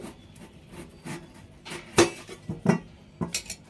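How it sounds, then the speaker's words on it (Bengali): A knife cutting a potato on a metal plate, producing scattered close, crisp clinks and scrapes, with a few sharper knocks of the blade against the plate, and no talking. "এখানে আলুটাকে আমি এই সাইড দিয়ে একটু কেটে নেব"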